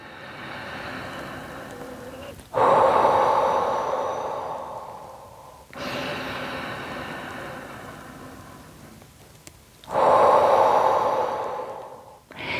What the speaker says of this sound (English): The deeper and the slower you breathe, the better.